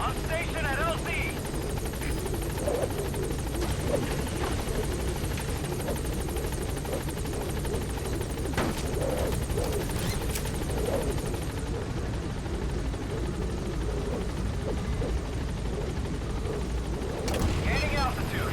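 The Pequod helicopter in Metal Gear Solid V hovers at the landing zone with a continuous, loud rotor roar. Radio-style voices speak over it.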